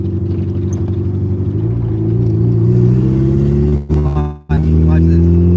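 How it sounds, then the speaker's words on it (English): A car with a turbocharged LS-VTEC engine running a 35R turbo at 8 psi on 91-octane fuel drones steadily up close, its pitch climbing gradually, with a brief sharp dip near the end before the engine note returns. "We're gonna drive past him."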